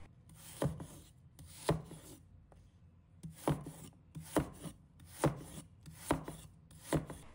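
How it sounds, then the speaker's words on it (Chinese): A knife chops fresh ginger into small pieces on a cutting board, making sharp, evenly spaced thuds in short bursts with brief pauses between them, close and clear with no talking. "一块生姜，把它切成小块。"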